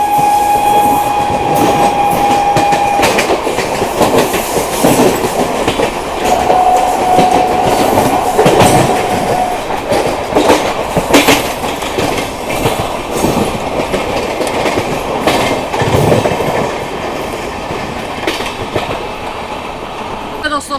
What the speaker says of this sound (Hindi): दोस्तों सामने से आ रही है एक रैपिड रेल, जो कि मेरठ से आनंद विहार दिल्ली के बीच में चलाई जाती है।